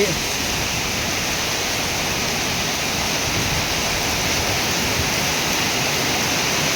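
Steady, dense rain pours over rice paddies, a loud continuous broadband hiss without breaks, close and unchanging throughout.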